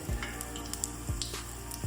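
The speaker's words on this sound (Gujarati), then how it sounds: "ધીમે ધીમે તાપે આપણે તળતા જવાના છે, પલટાતા જવાના છે." Stuffed green chili bhajiya fry in oil over low heat, giving a steady, quiet sizzle with a couple of soft low thumps as the fritters are turned.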